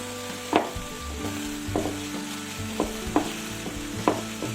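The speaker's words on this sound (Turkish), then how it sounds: "Kekiklerimiz hazır ayıkladık ve şimdi yıkayalım." Freshly picked thyme sprigs being washed in water, with soft irregular splashes and swishing repeated every second or so over a steady low hum, fairly close.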